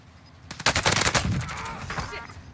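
A loud burst of rapid automatic gunfire from a video game match rattles out for about a second, then trails into softer echoing shots and the noisy rumble of the game's sound.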